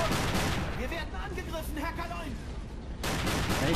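Gunfire in the Silent Hunter 3 naval game rumbles as a dense, continuous barrage of booms and rattling shots, loud and close, with brief lulls before it resumes.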